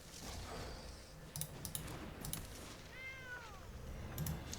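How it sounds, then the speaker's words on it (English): A cat gives a single short, rising meow near the middle, heard over a background of light clicking and tapping like typing on a keyboard. "It's a cat."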